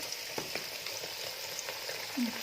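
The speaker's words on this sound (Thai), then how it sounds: "ทีนี้จะทอดหมู นะคะหมู ยายมาชุบแป้งทอดนี่" Battered pork pieces sizzle and crackle steadily in hot frying oil in a home kitchen, a dense continuous hiss with small pops and a brief louder spatter near the end, no voices.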